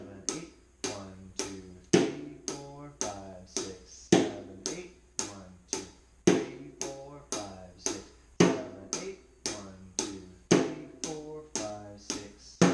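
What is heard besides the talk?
snare drum played with the left hand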